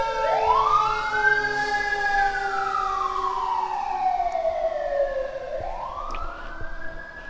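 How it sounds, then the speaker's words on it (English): An ambulance siren wails past outside, its pitch sweeping up and down in long arcs and dipping as it passes, loud and steady for several seconds with no talk over it. "sorry about the ambulance noise."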